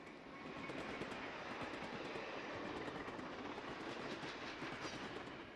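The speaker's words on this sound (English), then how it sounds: "Both locomotives used on this layout are lifelike models, and all rolling stock is from Fleischmann." Model trains with Fleischmann rolling stock roll along a snowy miniature layout, a faint steady rumble with a quick clickety-clack of wheels over rail joints and no voices.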